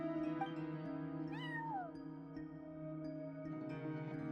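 A cat meows in the video game Genshin Impact's Nod Krai area, one clear rising-then-falling meow over steady ambient game music, fairly quiet.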